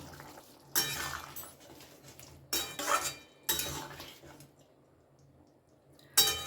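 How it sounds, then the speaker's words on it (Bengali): A metal lid clatters off a cooking pot of papaya and potato curry, giving a few sharp, separate clinks and scrapes between quiet pauses. "এবারে আমি ঢাকাটা একটু খুলে নেব"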